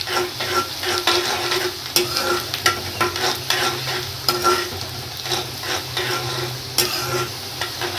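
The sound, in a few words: frying chopped green chilies with onions in a pan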